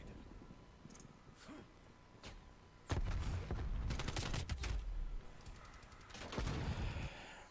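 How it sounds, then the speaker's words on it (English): Gunfire from a multiplayer video game shooter, with a brief lighter shot early, then dense bursts of rapid, tapping fire at close range from about three seconds on, loud and continuous with clustered impacts. "That guy with the little tappy tap gun is driving me nuts. Tappity tap."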